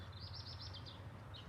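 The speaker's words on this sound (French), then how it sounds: "Et là, il y a des petits merles." Faint, high song of blackbirds with a quick series of warbling notes and a brief call near the end, over a low steady hum.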